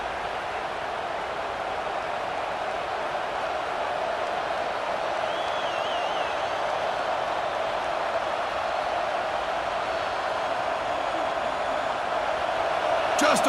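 Crowd roar filling a packed college football stadium in College Football 26, an Alabama vs Oklahoma playoff game, a steady dense wash of cheering that swells slightly toward the end.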